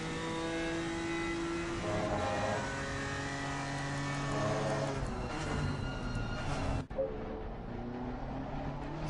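Race cars in a sim racing game at Donington Park head through the Melbourne hairpin, their engines holding steady overlapping tones as several cars pass close together before the sound cuts off abruptly near the end.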